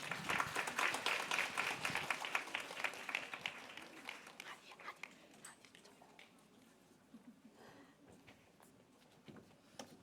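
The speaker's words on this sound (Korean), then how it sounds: "박수로 맞아주시기 바랍니다." A youth church gathering claps to welcome the host to the stage, dense applause at first that fades after a few seconds into scattered claps and murmuring.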